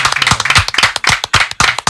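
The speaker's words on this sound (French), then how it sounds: "je vais vous demander s'il vous plaît de l'applaudir très fort" Audience clapping loudly for a grandmother being welcomed on stage, a burst of dense hand claps with some sharp individual claps standing out over the brief span.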